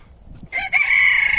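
A single rooster crows nearby in a garden of chickens, one short, loud call rising out of quiet background noise, with no voices.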